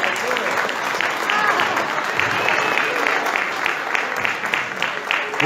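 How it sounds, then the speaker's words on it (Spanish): A steady wash of audience applause fills a beauty queen coronation event in southern Italy, dense and sustained throughout, with some voices mixed into the clapping. "fuerte el aplauso para Vicky, que es del ballet."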